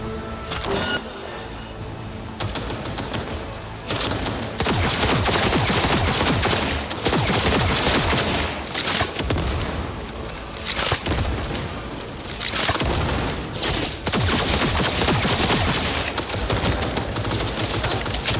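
Close-range gunfire in the video game Cyberpunk 2077: dense, loud bursts of automatic fire and booming shots, with a few brief pauses between volleys.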